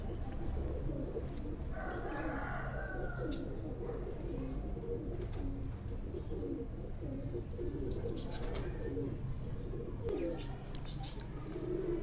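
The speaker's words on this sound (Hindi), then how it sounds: "इंतहाई खूबसूरत कबूतर" Sialkoti high flyer pigeons coo steadily and close by, with soft chirps from other birds over a dense, constant background hum for the whole stretch.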